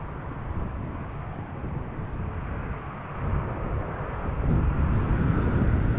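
A Delta Airlines airliner bound for Minneapolis departs Amsterdam Schiphol Airport, its jet engines giving a steady, dense broadband roar that holds constant and swells slightly louder toward the end.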